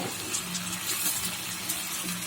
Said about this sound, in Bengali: দিয়ে দিব কষানোর জন্য একটু পানি